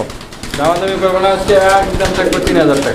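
Racing pigeons coo in close, repeated throaty bursts, over background voices and murmur.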